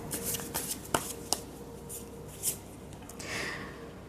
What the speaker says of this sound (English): I will shuffle your tarot cards.